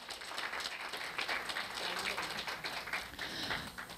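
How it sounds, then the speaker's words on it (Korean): Audience applause welcomes an award presenter at a student speech festival ceremony, a steady dense patter of many hands clapping, moderately distant and continuous throughout. "큰 박수로 맞아주십시오"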